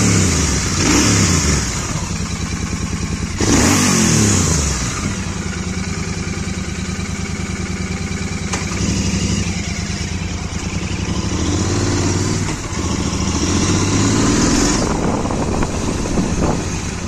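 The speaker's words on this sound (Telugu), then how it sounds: "we have Royal Enfield GT650" A Royal Enfield GT650 649cc twin-cylinder motorcycle engine while riding, loud and close, with repeated revving surges and gear changes over a steady running drone, no talk.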